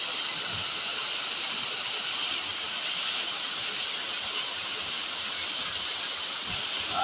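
A clear stream flows steadily in a shady spot, giving a continuous broadband rush and hiss of moving water close by with no voices.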